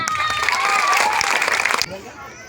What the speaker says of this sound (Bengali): একটা হাততালি